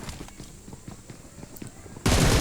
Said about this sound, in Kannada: ಶಾರ್ಟ್ ಗನ್ನಿಂದ ಒಂದೇ ಟ್ಯಾಪ್ ಹೊಡೆದು ಬಿಟ್ಟ